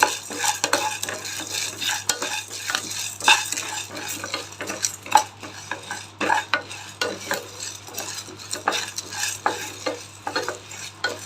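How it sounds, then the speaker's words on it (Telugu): Cumin seeds and black pepper fry in a pan while a metal spoon stirs and scrapes steadily, a busy close clatter over a soft sizzle, with no voices. "కొంచెం జీలకర్ర తీసుకుంటున్నా కొద్దిగా మిరియాలు తీసుకుంటున్నా అవి కూడా వేసి వేపుకుందాం మంచిగా"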